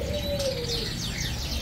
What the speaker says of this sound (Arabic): ما شاء الله هاي الكناريات.